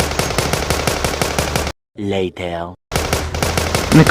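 Rapid automatic gunfire in a zombie shooter video game rattles in loud, evenly spaced bursts, stopping briefly while a voice speaks, then resuming.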